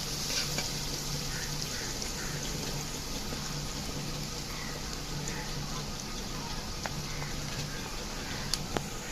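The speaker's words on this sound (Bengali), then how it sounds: "পেঁয়াজটা হালকা ভেজে নিচ্ছি" Onion frying lightly in a pan for a prawn and bottle gourd dish, a steady soft sizzle and crackle running throughout, fairly faint with occasional small pops.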